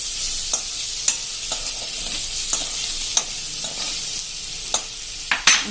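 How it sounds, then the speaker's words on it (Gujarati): Grated bottle gourd stirred in hot oil over a low flame for a quick sambharo, giving a steady soft sizzle broken by regular light clicks and scrapes of the spoon against the pan, with no talking. "આ રીતે આપણે 1 મિનિટ તેલમાં જ સ્લો ફ્લેમ ઉપર આપણે આ રીતે હલાવીને એને કૂક કરી લેશું."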